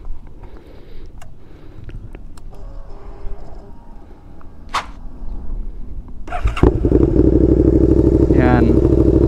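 A Suzuki SV650 motorcycle with its stock catalytic converter still fitted idles with a steady, loud exhaust rumble that starts partway through, after quieter clatter and background noise, then holds continuously close to the listener.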